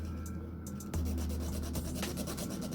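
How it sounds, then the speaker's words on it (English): Nail file rasping back and forth across the free edge of a fingernail, close up, with a series of quick, even scratching strokes. "when I am filing the free edge. Keeping my file straight"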